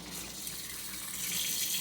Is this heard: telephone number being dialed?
no